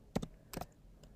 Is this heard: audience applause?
no